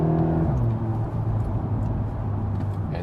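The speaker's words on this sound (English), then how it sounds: "this Akrapovic optional exhaust definitely also giving us some sounds note" A VW T-Roc R with a 300 hp engine, 7-speed DSG and optional Akrapovic exhaust drones steadily and loudly at close range, its low exhaust note holding an even pitch with no talk over it.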